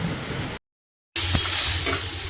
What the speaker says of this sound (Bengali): এই সবজিগুলো ভেজে নিচ্ছি একটুখানি ক্যাপসিকাম আর পেঁয়াজ আর একটু কারি পাতা দিয়েছি